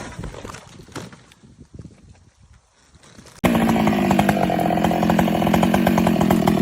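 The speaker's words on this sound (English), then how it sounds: "The roar of the chainsaw cuts through the air, its blades sinking deep into each trunk like a strike of judgment." A giant chainsaw cutting into tree trunks: quieter rustling and thuds for a few seconds, then the saw suddenly roars in close and loud, running hard and steady to the end.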